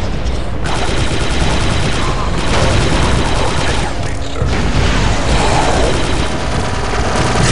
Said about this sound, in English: I need suppressing fire on those grenadiers.